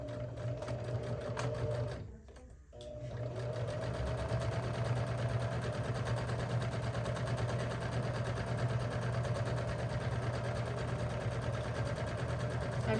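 A sewing machine stitches the side seam of a tote bag, a loud continuous motor whir that pauses briefly near the start, then runs steadily on.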